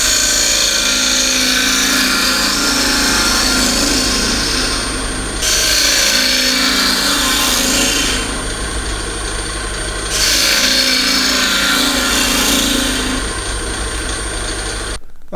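Wood is roughed out on a lathe with a 1/4 inch bowl gouge, a loud close steady motor hum with rough scraping cutting noise that comes in repeated bursts of a few seconds each, no talking.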